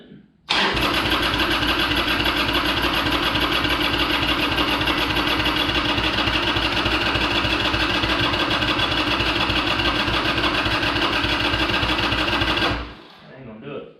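A cold Harley-Davidson Sportster 883 motorcycle with the choke pulled fires up and holds a loud, steady, chugging engine note for about twelve seconds, then cuts off abruptly.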